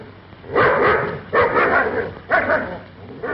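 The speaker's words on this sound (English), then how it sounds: "Go on, grab hold of that dog." A single dog barks loudly and close, three sharp rough bursts spaced about a second apart, set against a dull background.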